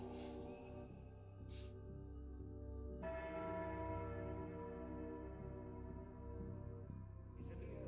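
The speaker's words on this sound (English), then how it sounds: "As I heard the ritual bell ring for the second time, the lights went out." A ritual bell rings in a chapel within a video game, a single resonant strike that hangs and slowly decays over a low ambient drone, faint and somewhat distant.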